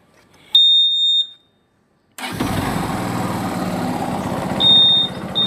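A used motorcycle in self-start condition gives a short electronic beep, falls briefly silent, then its engine cranks and settles into a steady, close running idle, with another beep near the end.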